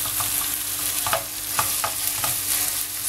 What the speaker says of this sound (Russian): Теперь мы добавим фарш. Итак, перемешиваем.